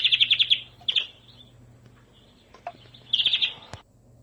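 A canary sings rapid trilled tours, bursts of fast repeated high notes separated by quieter gaps, close and clear over faint background hum.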